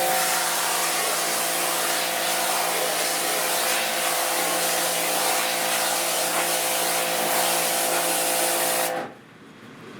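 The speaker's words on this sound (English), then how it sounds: "It's the only point in the process where you use the power washer." A loud, steady broadband hiss of a high-pressure power washer spraying a screen-printing screen continuously for about nine seconds, with a low mechanical hum underneath, then cutting off abruptly.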